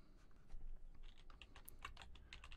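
Quiet, close clicking of a computer keyboard being typed on, short irregular bursts of keystrokes with brief pauses, no talking.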